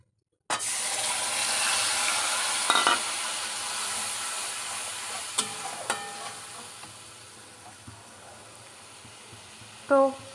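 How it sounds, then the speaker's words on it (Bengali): Spice paste sizzling in a pan with boiled chickpeas and potatoes: a steady, loud frying hiss with occasional clinks and scrapes of a spoon stirring, and a sharp clatter at the end. "মশলাটা তো কষাচ্ছি"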